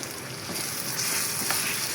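Mashed boiled taro goes into spice paste frying in a pan, giving a steady sizzle with soft stirring scrapes, close and moderately loud.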